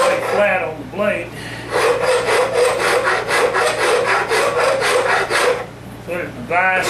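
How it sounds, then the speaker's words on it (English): An old horseshoe rasp working an oak wood handle: rhythmic, rough rasping strokes, about ten quick back-and-forth passes in a row, loud and close, with a brief pause before and after. "use an old horseshoe rasp is what this is. And then it'll take it down pretty quick"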